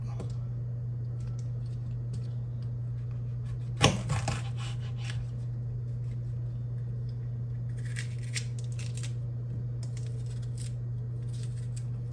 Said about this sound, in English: Oh, and I'm going to cut up this pepper here too.